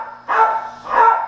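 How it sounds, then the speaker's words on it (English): A dog barks twice in the background, two moderately loud, slightly muffled barks spaced about half a second apart, with nothing else in the scene. "And a dog in the background."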